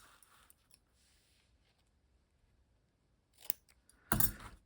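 Double-sided tape is pulled and peeled from its roll in a quiet room, giving a soft rustle and then a short, sharp ripping crackle near the end, close up and without speech.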